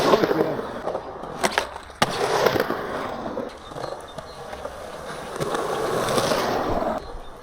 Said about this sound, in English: See how the ollie goes.